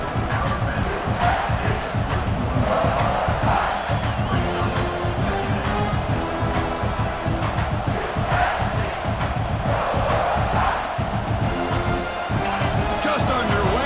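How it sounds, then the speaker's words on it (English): Home crowd roaring continuously at a football game, a loud, dense wall of cheering and shouting that holds steady throughout with swells of excitement. "this home crowd is fired up and ready to make a difference today"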